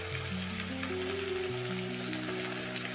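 Sliced green chillies and thinly chopped onions frying in hot oil for chicken fry curry, giving off a steady, even sizzle that runs continuously beneath background music.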